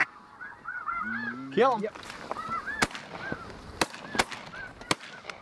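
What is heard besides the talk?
flock of geese honking during waterfowl hunt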